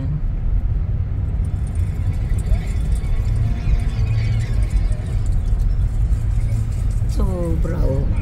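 A car creeps slowly along a snowy uphill road in Bremerton, Washington, its engine and tire rumble steady and close throughout, while people talk inside the vehicle and a voice rises near the end.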